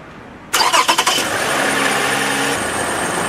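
A car engine cranks in a few quick rhythmic turns, then catches and settles into a steady idle, close and loud, during a 12V battery cranking test.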